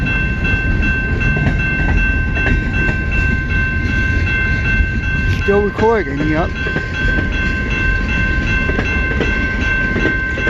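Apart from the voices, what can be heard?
CN M482 northbound freight train passing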